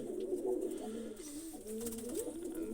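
White pigeons give soft, close, rolling coos in a continuous low warble. Only faint background noise sits beneath the birds.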